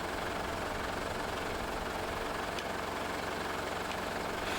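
A tractor engine idling while hitched to a tree planter makes a constant, even mechanical rumble with a steady pulse, nearby and unchanging throughout, with no voices.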